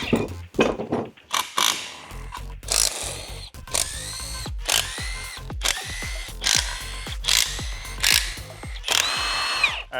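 An impact gun removes parts from an engine during a Datsun drift truck build, close and loud, firing in repeated short bursts with brief pauses between them.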